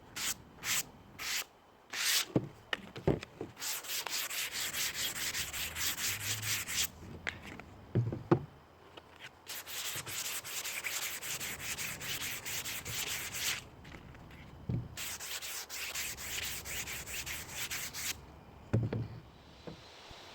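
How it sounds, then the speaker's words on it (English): Sandpaper gently rubbed across a gesso-coated acrylic painting canvas, heard as several bursts of steady back-and-forth scratchy strokes separated by short pauses and light taps, close and fairly quiet. "Once again, we will gently use sandpaper"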